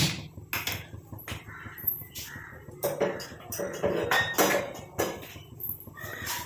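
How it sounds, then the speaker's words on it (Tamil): An iron kadai set onto a kitchen stove: a series of metallic clanks and clinks, some sharp and close, irregularly spaced over several seconds above a low background rumble. "இப்போ அந்த இரும்பு கடாயை நம்ம அடுப்பில் வச்சாச்சு"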